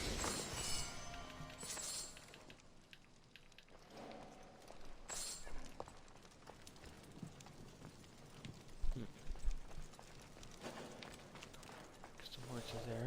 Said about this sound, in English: Some horses there.